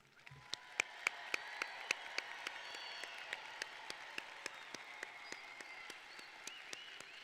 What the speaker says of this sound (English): Would the audience please join me in celebrating the class of 2025 with a round of applause?